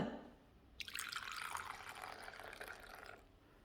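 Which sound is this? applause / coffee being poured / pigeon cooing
coffee being poured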